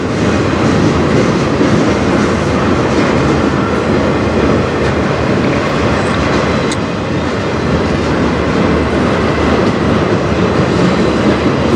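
A CN freight train rolls past close by on the Strathroy Subdivision, its cars loaded with truck frames, giving a loud, steady rumble with a rhythmic clickety-clack of wheels throughout and no voices.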